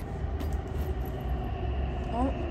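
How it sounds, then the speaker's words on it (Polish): A Warsaw metro train arrives at the station, giving a low rumbling roar with a brief rising squeal of brakes near the end, heard against constant platform background. "O, metro przyjechało."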